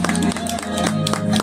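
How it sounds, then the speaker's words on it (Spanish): Crowd clapping and cheering at a serenade performance, loud and close, with sustained tonal music continuing underneath and sharp claps standing out from the dense applause. "Que se escuchen los aplausos."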